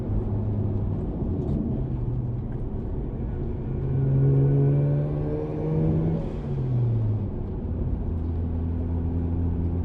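A vehicle fitted with an RRP turbo kit accelerates on a test drive along tight, rough roads. The engine drone is steady and loud throughout, its pitch climbing through a rev-up midway before settling back to a steady run.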